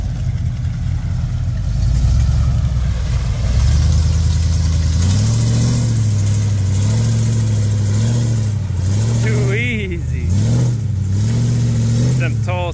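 A Ford Bronco's engine revs hard while working through Florida mud, with rising and falling pitch swells across a steady loud drone, close by, and people talking over it.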